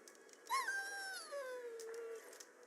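A dog in Dragon Age Origins lets out one drawn-out whimpering whine that slides downward and fades, clear and close with nothing else over it.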